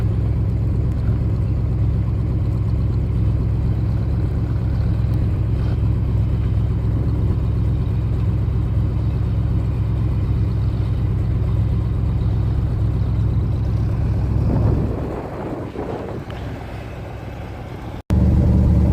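Loud, steady engine drone of a John Deere 4640 tractor driving in snowy weather while hauling bales, continuous and close, then dropping off sharply near the end before a brief return.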